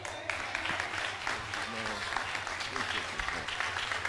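Steady, dense applause from a church audience for a political candidate, sustained throughout at moderate distance, with a few voices calling out over the clapping.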